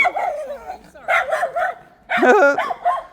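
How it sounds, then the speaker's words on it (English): A dog barks and yips close by on a walk in Pukekura Park, three short bursts of excited, whiny barking with brief pauses between them. "I know that dog is saying, come here, come to me, come lick my face."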